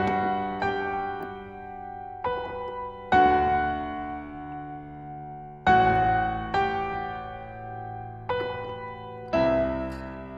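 A keyboard patch in MainStage plays the intro of a song: sustained chords with octave lines and clear note onsets about every second or two, alone and fairly soft with no talking.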